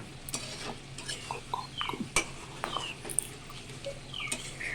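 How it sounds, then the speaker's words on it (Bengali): Chicken curry being stirred in a pot, a few soft scrapes and taps of a spoon with light sizzling between them, close but quiet. "আসার পরে আমি নাড়াচাড়া করে দিলাম।"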